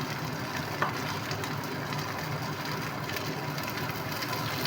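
Olive oil sizzles in a hot frying pan, a steady broadband frying hiss that runs evenly throughout, close and moderately loud, with no talking.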